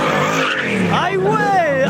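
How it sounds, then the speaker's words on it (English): A Ford Mustang pulls into a car meet with its tires squealing in rising, wavering pitches. Voices talk over the noise of the crowd. "We got a Mustang coming in."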